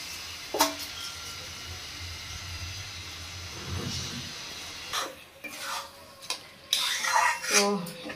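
Parboiled rice and masoor lentils going into a pot for chicken khichuri make a low background hum, then louder metallic clatter and scraping toward the end as the mixture is stirred.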